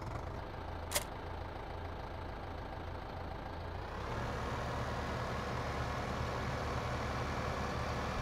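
Tractor engine in the video game Farming Simulator 2015, a steady low rumble that grows slightly louder and fuller partway through, with a brief sharp click near the start and no talking.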